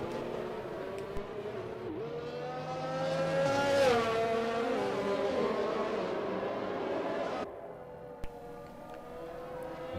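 F1 2021 race cars circling behind the safety car on the Azerbaijan street circuit, a nearby engine drone that rises and sweeps in pitch as cars pass, then drops abruptly to a lower steady hum.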